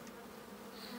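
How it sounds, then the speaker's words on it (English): Honey bees flying around a hive in a split and re-queening setting make a dense, continuous buzzing drone, steady and fairly close. "any older bees that are out flying and collecting, they're going to come back to this hive."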